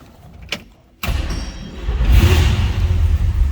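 A 1966 Chevrolet Chevelle SS with a 454 V8 and Tremec 5-speed starts cold: a short click, a brief pause, then the engine cranks and catches into a loud, rising rumble close by.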